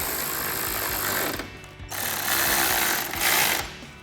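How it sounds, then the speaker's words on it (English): A 10mm socket on a ratchet tightens headlight bolts on a 2019-2023 RAM 1500, giving close bursts of rapid mechanical clicking broken by brief pauses. "take our 10mm socket to tighten them down"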